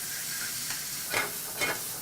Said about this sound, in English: Straight up sizzle.